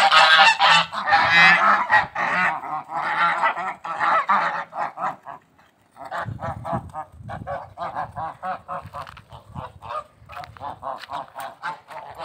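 Geese on a farm with chickens, honking loudly and repeatedly in close, rapid overlapping bursts, a short pause midway before the noisy calling resumes and continues to the end.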